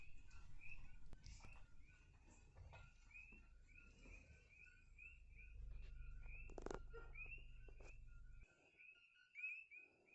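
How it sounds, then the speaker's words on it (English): Coqui frogs call at night in Hawaii, their repeated two-note chirps steady and fairly faint against a quiet background, with a low rumble under the first part of the chorus. "I turned my car off and just sat for a bit to resonate with the energy of the coqui frogs."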